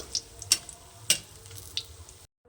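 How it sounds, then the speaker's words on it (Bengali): Lentil dumplings (bori) frying in oil for a fish-oil curry, giving a soft continuous sizzle with a few sharp ticks and pops, faint and close, without talk, ending in a brief silence. "বড়িগুলো আমি লাল করে ভেজে নিয়েছি এবার আমি তুলে নেব"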